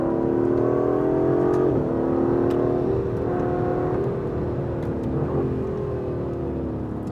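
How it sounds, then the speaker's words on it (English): Aston Martin DB11 twin-turbo engine revving hard with traction control switched off, a loud, steady, close throaty drone with rising and falling pitch and two brief dips as gears change, no talk. "it feels like a proper, big, serious, lovely sounding Aston Martin, the DB11"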